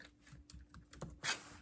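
A few quick keystrokes on a computer keyboard entering a material search term, a short run of soft clicks ending in a louder tap, close and alone at low level.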